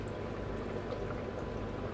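Water pours steadily into a small homemade aquaponics setup with an air lift pump, overflow spilling back into a plastic jar reservoir; a continuous close trickling wash with no talk.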